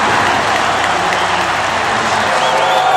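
Loud crowd roaring and cheering at CenturyLink Field, home of the Seattle Seahawks, a dense continuous wash of voices and applause throughout.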